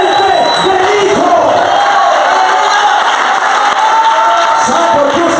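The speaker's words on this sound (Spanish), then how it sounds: "¿Sabe por qué usted aplaude?" A church congregation applauds and cheers loudly and continuously, a dense crowd roar with whoops and shouts carrying steadily throughout with no pause.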